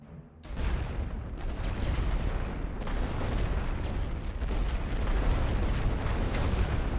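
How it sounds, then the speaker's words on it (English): Artillery air burst strike in the video game The Great War: Western Front, a dense, continuous rumble of explosions and booming detonations after a quiet start, rolling on loudly throughout with no voices. "Let's try an air burst against enemy artillery and see what happens."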